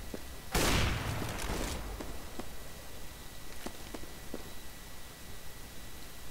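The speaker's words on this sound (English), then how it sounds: "Throwing flashbang." A flashbang grenade bursts in CS:GO with a sudden loud broadband blast and hiss, then fades into a steady noisy ringing wash broken by a few faint sharp clicks and distant taps.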